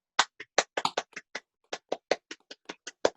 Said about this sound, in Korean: 다시 한번 좋은 강의해준 사장님께 박수 부탁드리겠습니다